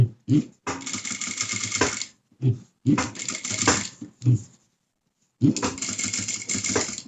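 A sewing machine stitches the seam of a denim slipper made from reused jeans, running in three loud, steady bursts with short pauses and quick backstitch runs between them, close up and with no voices.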